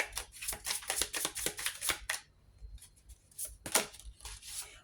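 Tarot cards shuffled for a reading, quick riffling bursts in a rapid run, a short pause, then a few more crisp flutters, close and fairly soft.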